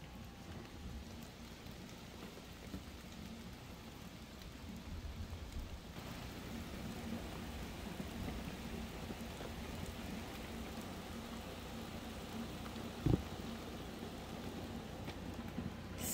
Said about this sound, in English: Can you hear the rain though?